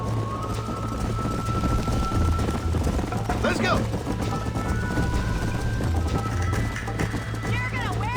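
A horse gallops in a race in the video game Red Dead Redemption, with steady rapid hoofbeats under continuous background game sound while a voice shouts briefly.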